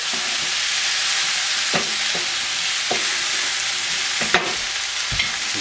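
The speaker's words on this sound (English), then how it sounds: "Now we're going to add our shallots and our mushrooms. We're going to stir that up a little bit." Shallots and mushrooms frying in a pan for chicken chasseur: a loud, steady sizzle with a handful of spaced clanks and scrapes as the pieces are stirred, heard up close with no talking.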